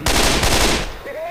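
A rapid burst of automatic gunfire from the video game Left 4 Dead 2, loud and close, rattling for under a second before fading into a brief ringing tail.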